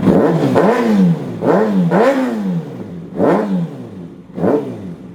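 A 2019 Kawasaki ZX-6R 636 sport bike engine runs nearby, alone, blipped through five sharp revs that rise and fall in a steady rhythm, each loud snarl dropping back toward idle between pulls.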